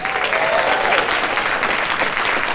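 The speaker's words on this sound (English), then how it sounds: "let's go ahead and give a round of applause" Steady, dense clapping from an arcade tournament audience at a closing ceremony, honoring a runner-up, with a faint voice over the opening moments.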